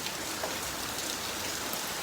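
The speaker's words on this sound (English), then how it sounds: "It's heavy and it's heavy rain and this is wind right" Heavy rain pours in a steady, dense hiss with wind mixed in, loud and close throughout, no voices.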